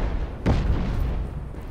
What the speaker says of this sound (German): jetzt explodieren die Teile weg